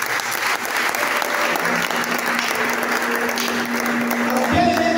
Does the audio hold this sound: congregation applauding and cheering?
yes